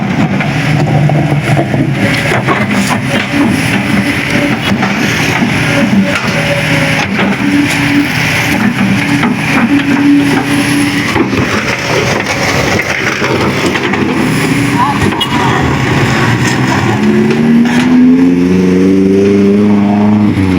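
Dense road traffic jam near a construction project in Karawang, a loud constant wash of car and motorbike engines close by, with rising revs and a horn-like tone toward the end.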